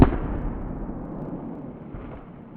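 A single .40 S&W pistol shot fired at a target cracks loudly at the start, then a long rumbling outdoor echo decays over a couple of seconds, with no talk.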